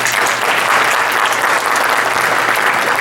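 A gala audience at an anniversary celebration breaks into loud, dense, sustained applause, a continuous wash of many hands clapping close by with no break.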